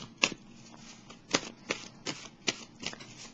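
A deck of tarot cards is shuffled before a card is drawn: a series of crisp, close riffling and slapping bursts at an uneven, unhurried rhythm against a quiet room.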